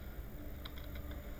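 Quick keystrokes on a computer keyboard while entering Python code into a notebook: a short run of soft, close clicks in a quiet room, with no voice.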